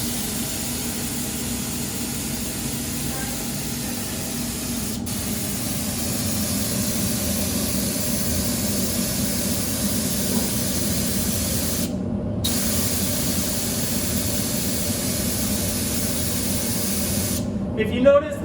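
Steady hiss of a spray gun spraying glaze continuously at close range, with brief cut-offs where the spraying stops and restarts.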